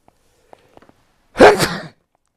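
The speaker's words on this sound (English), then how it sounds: "Excuse me, folks. Those sneezes again." A single sharp sneeze bursts out close to the microphone after a few faint clicks in near silence.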